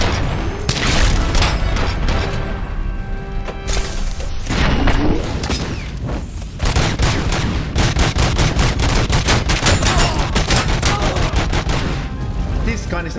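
Loud rapid gunfire from a video game fires in dense bursts with booming impacts and clattering crashes, pausing briefly before resuming, with voices talking over it at times.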